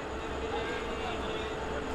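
Konkan Kanya Express passenger train arriving past a halted train, a steady distant rumble and rush of rolling stock with faint background voices.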